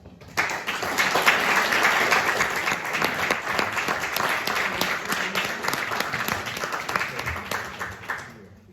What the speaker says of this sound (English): let's hold the applause for the end after they do their finishing